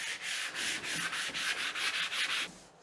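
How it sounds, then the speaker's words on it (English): Hand sanding with 1000 grit sandpaper between finish coats on an Empire chest of drawers, a close, steady rhythm of quick back-and-forth rasping strokes with short pauses and no talking. "we're just going to get a 1000 grit sandpaper and give these a really nice feel."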